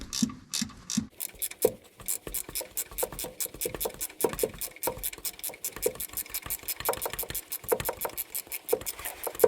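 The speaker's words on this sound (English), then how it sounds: "Just using the ratchet." A hand ratchet turns a fastener on the ABS wire harness bracket of a 2008 Toyota Tundra, front driver's side, making a close, rapid, steady clicking in repeated strokes with no talking.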